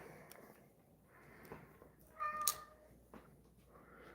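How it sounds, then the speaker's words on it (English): A pet cat meows at home, its cry rising near the middle of a quiet indoor room with faint background noise, one or two short calls standing alone. "Why are you meowing at me again?"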